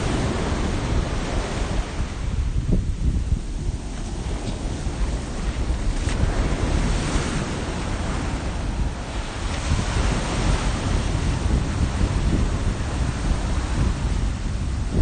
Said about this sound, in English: that was a really good wave.